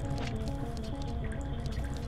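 Steady water falls and drips in a temple room of the N64 game The Legend of Zelda: Majora's Mask, a continuous quiet splashing and trickling wash with no voices.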